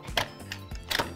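An Instant Pot lid is closed in a few sharp clicks and clatters, two bursts about three-quarters of a second apart with quieter handling between, heard close up.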